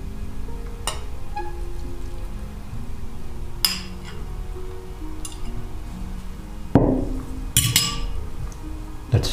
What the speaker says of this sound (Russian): Это все хорошо перемешаем.